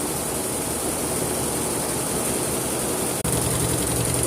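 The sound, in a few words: running engine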